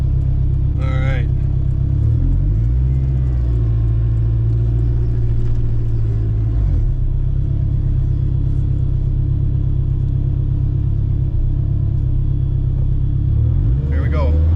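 A turbocharged, K-swapped all-wheel-drive Honda Civic rumbles loudly nearby with a deep, steady engine drone that rises and shifts through revs, while a voice speaks briefly over it.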